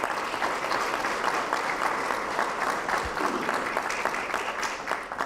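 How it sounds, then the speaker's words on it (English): A crowd applauds a state representative and senator at a local community event, with steady, dense clapping that stays even and sustained throughout. "we need to give them a huge round of applause for what they did."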